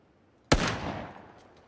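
A single sharp gunshot in PlayerUnknown's Battlegrounds, loud and sudden, with a long reverberant tail fading over about a second, followed by a faint distant pop.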